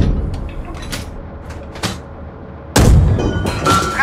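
A tank's main gun fires a HEAT round in a PC video game: one loud, sudden boom cuts in about halfway through, after a quieter stretch of scattered clicks and thumps.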